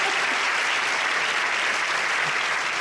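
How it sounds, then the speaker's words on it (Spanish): An audience at a Latin awards gala applauds continuously, a dense, steady wash of clapping throughout. "Así que fuerte aplauso a ustedes también."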